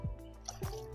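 Grapefruit juice poured for a gin-based grapefruit martini, heard as two short, close liquid plops or glugs about half a second apart, quiet, with a faint hum behind.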